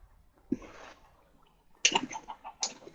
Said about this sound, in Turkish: Tavuk geldi. Tavuk kovalıyor, o kaçıyor.